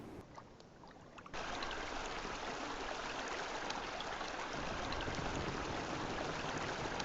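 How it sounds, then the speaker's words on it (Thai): Flowing-water sleep sound from Soundcore Sleep A20 earbuds, a constant, hissing stream that starts quietly and jumps to a fuller, steady level after about a second, continuing unbroken. "เสียงน้ำไหลนะครับ"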